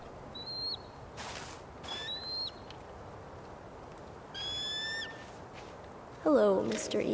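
A bird call, meant as an eagle, sounds in the Tell Me Why adventure game: several short, clear whistled cries at spaced intervals over a steady outdoor ambience, followed by a brief burst of other sound near the end.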